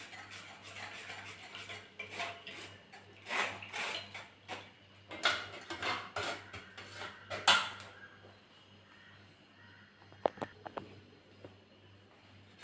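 Drumstick leaf soup strained through a filter, with repeated metallic scraping, clinking and stirring of a spoon against the strainer and vessel, close up and irregular, before tapering into a few sparse taps.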